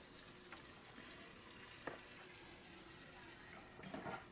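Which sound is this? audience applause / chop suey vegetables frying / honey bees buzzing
chop suey vegetables frying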